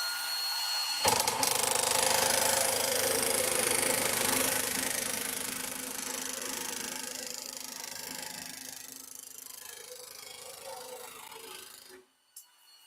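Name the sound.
FEIN power tool making a cut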